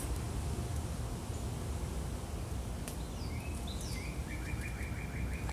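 Birds chirping outdoors, a few short high calls and a brief trilling series near the end, faint against a steady hiss of background noise, with no talking.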